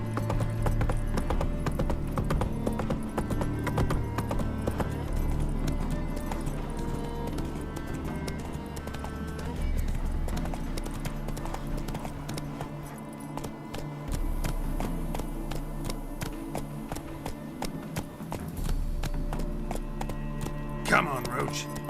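Hooves of Roach, the horse in the video game The Witcher 3, clip-clop steadily at a trot through most of the stretch, set under a dense bed of game music with a voice in places.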